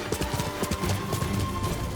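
Galloping horse during a mounted charge in Ghost of Tsushima, with rapid rhythmic hoofbeats pounding close and loud throughout.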